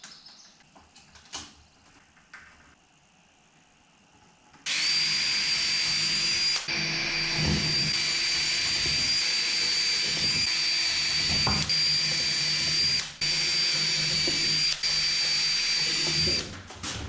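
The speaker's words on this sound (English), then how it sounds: "Just going to pre-drill a couple of holes." Power drill pre-drilling a couple of holes while mounting a cheap LED grow light: after a few quiet seconds of handling, the motor kicks in with a loud, continuous high whine that runs to the end with brief dips.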